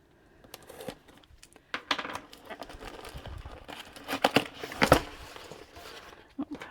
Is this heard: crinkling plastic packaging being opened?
yes